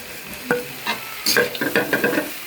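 A spatula scrapes and stirs fried rice with meat and nuts in a hot frying pan, giving a series of sharp metallic scrapes and knocks over a low, steady sizzle.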